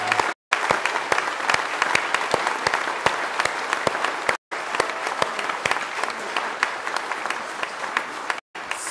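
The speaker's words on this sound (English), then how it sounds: "So let us welcome and applause them with us." A church congregation applauds during an Easter Vigil at St Gabriel in Port Orchard, Washington: dense, steady clapping from many hands fills the room at an even level, broken by a few brief gaps.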